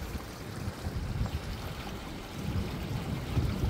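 Water flows at a nature reserve beside the beach, a steady rushing babble that carries on throughout and swells slightly toward the end.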